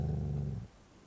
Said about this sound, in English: A black dog in the corner.